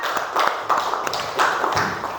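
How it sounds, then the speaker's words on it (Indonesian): Children in a classroom clap together in uneven, scattered bursts, fairly close and moderately loud, with no talking over it. "tepuk tangan anak-anak"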